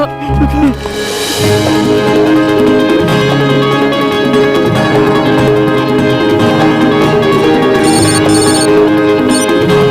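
A telephone ringtone from a Hindi comedy film rings steadily for about ten seconds with a repeating electronic tone, loud and up front over a continuous musical score.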